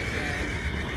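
A horse in a video game lets out a loud, close whinny, a brief shrill neigh heard alone with no talk over it.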